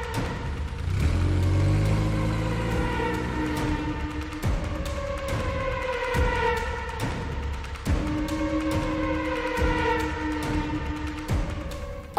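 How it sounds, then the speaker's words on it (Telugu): An auto rickshaw engine rumbles and revs nearby, its motor note rising and falling in several accelerating sweeps over about twelve seconds with brief clicks and road noise, no voices. "ఆటో"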